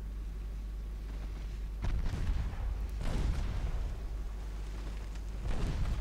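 Warship guns boom in Ultimate Admiral Dreadnoughts, with three heavy salvos at roughly two, three and five and a half seconds rising over a steady low rumble of naval battle, each followed by a rolling, reverberant tail.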